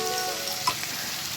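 Dried Bombay duck fish frying in a pan with ground dried chillies and garlic, a steady close sizzle and crackle with one sharp clink or pop partway through, no talking.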